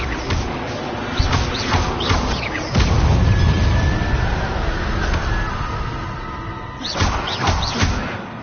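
Spell blasts from Confringo and Incendio crack and thud in Hogwarts Legacy, with sharp impacts and a sustained fiery rumble in the middle, followed by more bursts near the end.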